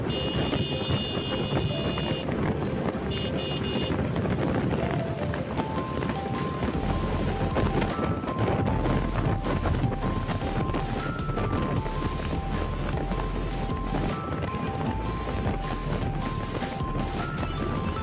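A motorbike ridden flat out at about 118, steady loud engine drone mixed with heavy wind buffeting across the whole stretch, with rattling knocks and thumps over the top.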